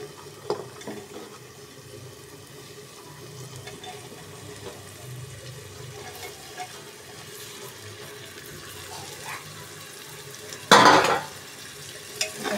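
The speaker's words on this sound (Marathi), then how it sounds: "छान याला परतून घ्यायचं या मसाल्यामध्ये त्या भाज्या" Vegetables are stirred and sautéed in masala for Surti undhiyu, with a faint low sizzle, soft scraping and occasional clinks from the pan, then one brief louder clatter near the end.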